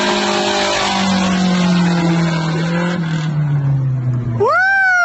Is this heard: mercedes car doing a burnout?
yes